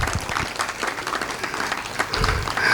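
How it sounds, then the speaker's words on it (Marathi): An audience at an International Yoga Day gathering claps loudly and steadily, dense applause filling the room close by for a few seconds, with a little voice mixed in. "जोरात टाळ्या वाजूया."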